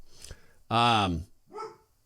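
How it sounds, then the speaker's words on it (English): A dog barks at a disturbance outside, giving one loud, drawn-out bark and then a shorter, quieter one, with faint background noise between them. "My dog is flipping out about something that's going on outside."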